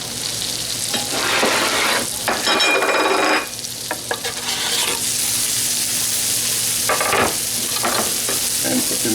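Mushrooms frying and being stirred in a pan over a high flame alongside lobster tails and shrimp, a continuous loud sizzle with bursts of scraping and stirring close by.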